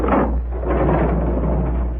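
A door swinging open in an old radio drama, a short wooden creak and thud heard alone at fairly close range, with a low muffled rumble behind it.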